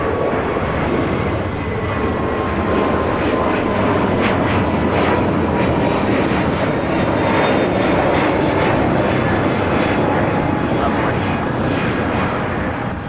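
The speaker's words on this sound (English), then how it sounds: "This is Understood the Assignment, taking off to JFK. JetBlue Airways 1524, an A321neo." A JetBlue Airbus A321neo, flight 1524, takes off for JFK at LAX, a loud, steady roar of engine noise with a broad wash that holds for the whole stretch, with voices talking over it.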